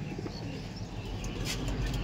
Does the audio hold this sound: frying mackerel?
no